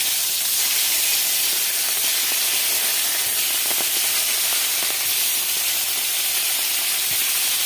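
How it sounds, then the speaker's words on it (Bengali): Turmeric-coated fish fry in hot oil in a wok, giving a loud, unbroken hiss and sizzle close by with faint spatter pops scattered through it. "হলুদ মাখানো মাছগুলোকে আমি এক এক করে কড়াইয়ের তেলটা গরম করে নিয়েছি, এখানে দিয়ে ভেজে নেব।"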